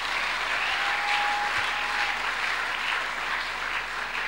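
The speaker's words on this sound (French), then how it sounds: "Donc nous l'acclamons." A church congregation applauding the preacher during a sermon, producing sustained, dense clapping from a large crowd that holds steady throughout, with a faint tone briefly underneath.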